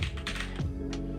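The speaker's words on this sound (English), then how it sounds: "I'm pretty sure this is the firewall credentials, but I'm just going to type them in now" Firewall admin credentials are typed on a computer keyboard in a quick burst of soft, close key taps over a constant low background hum.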